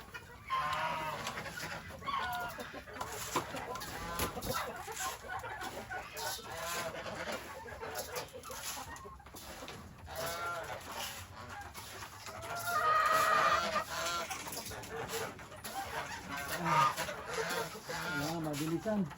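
Chickens cluck and squawk continuously at close range during feeding, a busy flock with occasional louder calls and faint voices mixed in.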